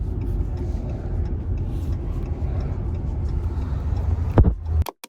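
A car drives along, its engine and road noise forming a steady loud low rumble from inside the cabin, ending with a couple of sharp knocks before cutting out.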